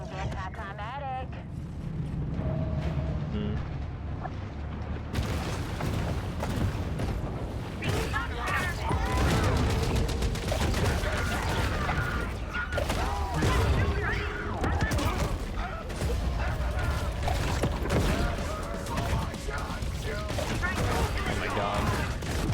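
Gunfire from a gang of armed beach locals in Maneater, game audio: a continuous, fairly loud clatter of shots and mechanical noise runs through, with someone talking over it.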